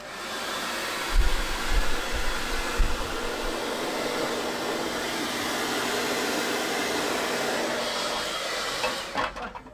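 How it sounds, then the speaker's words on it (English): A hair dryer runs steadily and loudly throughout at a constant whooshing roar, with a few low thumps near the start and an abrupt stop at the very end. "let me take a different hair dryer and look at this"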